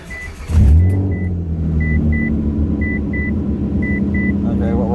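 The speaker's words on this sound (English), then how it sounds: "put the key in and start it" A car engine cranks and catches after an ECU reset, then settles into a steady, fairly loud idle, while a chime beeps repeatedly in pairs from the dashboard.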